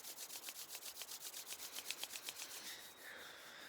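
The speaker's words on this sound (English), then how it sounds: "one of the things that I like to do is rub my hands together vigorously" Vigorous rubbing of two hands together, a fast steady swish of skin on skin repeating in an even rhythm, close and moderately quiet, with no talking.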